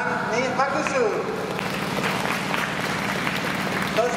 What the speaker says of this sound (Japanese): トシカズさんに拍手